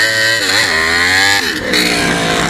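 A Suzuki GSX-R motorcycle engine revs loudly up close, its pitch climbing and dropping in quick throttle blips before settling into a rougher, sustained growl.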